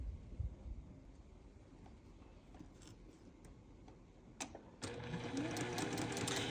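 Sewing machine stitching quilt pieces for a flip-and-stitch flying geese side corner unit, a soft, rapid mechanical ticking run, then a louder, busier whir after a sharp clack, nearby and without talk.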